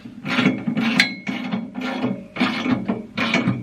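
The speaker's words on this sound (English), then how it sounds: "then I'll take my 17mm wrench and tighten all of these bolts" A 17mm wrench tightening bolts on a tractor attachment, heard as a series of about six rhythmic ratcheting, grinding strokes close by, each lasting around half a second, with no talking.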